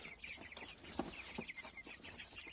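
A flock of nine hens and three roosters clucking softly, with busy overlapping chatter and quiet scratching, fairly faint and close by.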